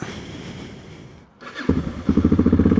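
A Yamaha XT600 motorcycle engine, on a little choke, coughs, catches, and settles into a loud, rapid, lumpy idle with rhythmic pulsing thumps, close by.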